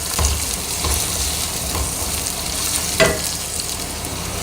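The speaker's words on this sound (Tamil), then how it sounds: "இந்த வெங்காயம் இந்த அளவு தான் வதக்கணும்" Finely chopped large onion sautéing in a pan at home, a steady loud sizzle with occasional scraping stirs and a sharper clatter near the end, no talking.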